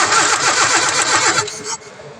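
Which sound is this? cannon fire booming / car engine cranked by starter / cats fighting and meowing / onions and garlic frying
car engine cranked by starter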